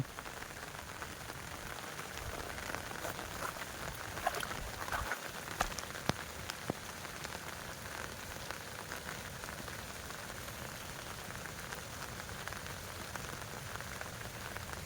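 Rain falls during flooding in southern Thailand, a soft, even patter that stays faint and continuous throughout, with a few small knocks and no voices.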